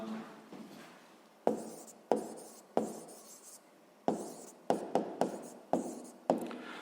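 Pen writing on paper, close scratchy strokes broken by a series of sharp taps as each line or figure is finished, fairly quiet, with no speech.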